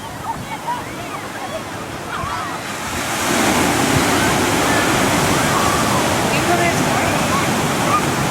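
Big ocean waves crash on the shore at Nordeste, Bahia: a softer wash at first, then a loud, sustained roar of breaking surf.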